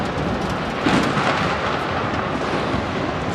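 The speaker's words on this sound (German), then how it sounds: "Oi, was ist denn das für ein Unwetter?" A thunderstorm rages in the video game The Invincible, with rolling thunder rumbling over dense, steady rain and a swell of louder rumble near the start.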